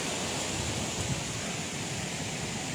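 Steady roar of the tufa waterfall at Baume-les-Messieurs, a broad constant rush of falling water filling the air, close and uniform throughout with no talk.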